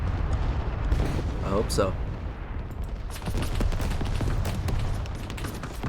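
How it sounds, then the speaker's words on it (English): Booming rocket launches and artillery fire roll through a real-time strategy war game, with dense rumbling blasts continuing throughout and brief whistling streaks, while someone talks over the battle noise. "this is like one of those grad launches though"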